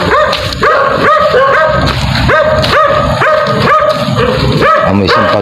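A dog barks loudly and close by in a village, a rapid series of sharp yipping barks in an irregular rhythm with a few whimpery notes mixed in.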